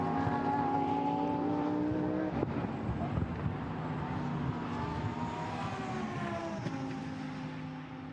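Lamborghini Super Trofeo race cars at the Nürburgring circuit, engines whining and droning as they pass, pitch rising and falling, with a commentator talking over the track noise.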